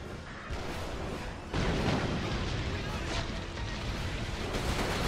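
A missile blast in Resistance: Fall of Man, a heavy boom that swells midway through a steady wash of loud battle noise, with voices in the background.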